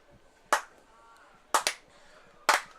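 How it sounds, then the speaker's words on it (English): Baseball fans clap together in a steady rhythm at a Guelph Royals home game. Three sharp, crisp claps, one doubled, stand out clearly over a quiet crowd backdrop. "As the fans to our right start the clap once again"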